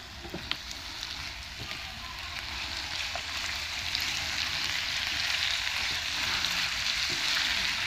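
Chicken frying on a tawa while spices are mixed in, a loud steady sizzling hiss that swells slightly, with occasional scraping and tapping of a spatula, close up and without talk.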